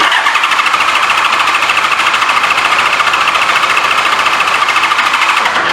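A 1985 Honda Goldwing GL1200 motorcycle engine spins over fast on the starter without catching, a steady, even whirring drone held loud and close for the whole stretch.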